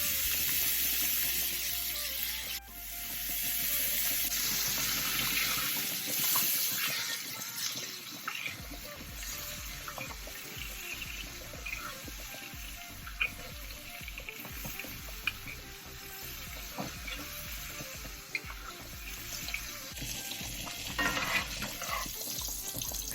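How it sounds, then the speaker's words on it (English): Steaks fry in butter with thyme and garlic while being basted, a dense continuous sizzle with frequent spoon clinks and spattering pops, close and loud throughout. "I'm going to make sure to constantly baste my steaks so that they don't dry out"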